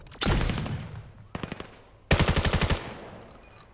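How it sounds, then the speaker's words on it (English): Gunfire in a multiplayer shooter game: a single loud shot, then a short burst, then a rapid automatic volley of about nine rounds, all close and punchy with no talking. "revealing their position with the gunshot"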